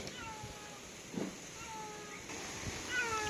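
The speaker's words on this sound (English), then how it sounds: "You probably can hear someone's meowing in the background." A faint cat meow rises briefly in the background amid steady low noise at a resort cottage construction site in the Philippines, with a second soft call near the end.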